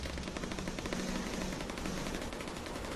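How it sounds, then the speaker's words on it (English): Rapid, continuous automatic gunfire in the video game Arma 3 rattles without pause, dense bursts layered over one another at close range. "Heard some gunfire around here"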